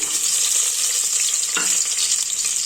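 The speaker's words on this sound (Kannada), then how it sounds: "ಎಣ್ಣೆ ಈಗ ಕಾಯ್ದಿದೆ ಅದಕ್ಕೆ ನಾವು ಹಚ್ಕೊ ಲಜ್ಜಿಟ್ಕೊಂಡಿದ್ವಲ್ಲ ಈರುಳ್ಳಿ ಬೆಳ್ಳುಳ್ಳಿನ ಅದನ್ನ ಆ್ಯಡ್ ಮಾಡ್ತಾ ಇದ್ದೀನಿ" Chopped onion and garlic frying in hot oil for a Karnataka-style country chicken curry, a loud, steady, close sizzle that fills the whole stretch, with a brief stir partway through.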